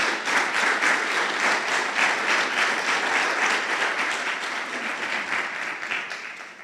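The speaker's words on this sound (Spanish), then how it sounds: "Aplauda a Dios." A church congregation applauds steadily and loudly, a dense sustained wash of clapping that holds level for several seconds before tapering slightly at the end, with no voices rising above it.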